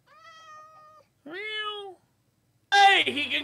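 A cat in Minecraft meows three times, two clear tonal mews followed after a short silence by a louder, harsher third cry, close and alone.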